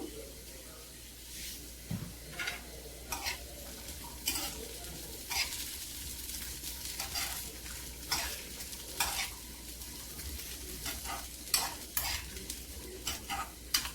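Chopped, washed potatoes sizzle in a hot pan with a light sprinkle of salt, while a spatula scrapes and stirs them in repeated bursts of clatter over the constant frying hiss, close up and fairly quiet.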